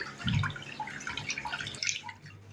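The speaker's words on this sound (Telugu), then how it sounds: "కుక్కర్లో 1 గ్లాస్ బియ్యం తీసుకొని వీటిని ఒకసారి శుభ్రంగా వాష్ చేసుకోండి" Rice being washed by hand in water inside a pressure cooker pot, with light splashing and dripping sloshes through the stretch, close and fairly quiet, no talk.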